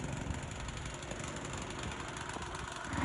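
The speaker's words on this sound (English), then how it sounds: "I found if you break it down sometimes, it's a little easier to use a snowblower." A snowblower engine runs steadily in two feet of deep snow, a continuous close mechanical drone that swells slightly at the end, with no voices.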